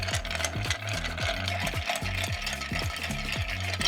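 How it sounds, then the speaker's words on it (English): A Negroni cocktail is stirred over ice in a glass, the spoon's steady rhythmic clinks and ice rattles repeating closely and evenly throughout, with no talk. "stir until your glass gets steamed from outside"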